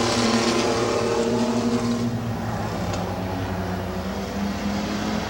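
Race trucks roaring around Midvale Speedway, a loud continuous engine drone with steady harmonic tones that shift slightly as the trucks pass down the back straightaway into the turn.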